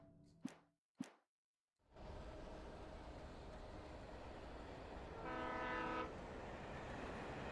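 In the video game Alan Wake, after two sharp clicks and a moment of silence, a train passes close by with a loud, steady rumble and rattling wheels, and its horn sounds briefly partway through.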